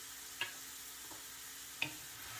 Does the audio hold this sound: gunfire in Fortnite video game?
no